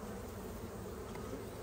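A swarm of bees buzzes in a dense, continuous drone, faint and steady throughout with no pauses.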